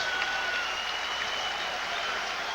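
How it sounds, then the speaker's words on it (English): Wrestling fans in a gym rise to applaud after a six-minute championship match, a steady dense wash of clapping filling the space at moderate level, with a faint crowd murmur beneath and no clear talk. "the fans coming to their feet to applaud John Fagen"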